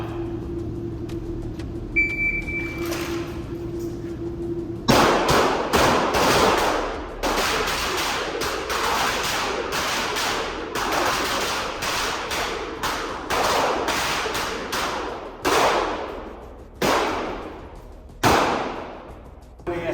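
Pistol shots during a timed five-round, 20-second shooting drill on an outdoor range crack out loud and close, with sharp evenly spaced reports and short pauses between them, after a brief quiet stretch with a tone.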